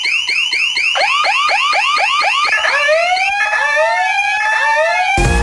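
Repeated electronic siren-like alarm wails, each a rapid sweeping tone, looping loudly and continuously as a comedic alarm sound effect on a French TV show, with no talking.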